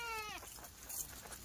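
A Kathiawadi goat or sheep at a livestock delivery gives one short, wavering bleat close by, followed by general farmyard background noise.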